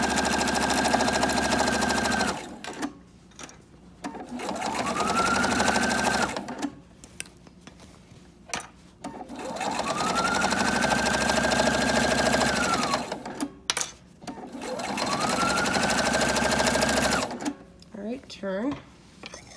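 Sewing machine stitching a fabric Bible cover, close and loud, running in long steady whirring bursts that rise to speed and stop, with short pauses between runs and a person talking in the gaps.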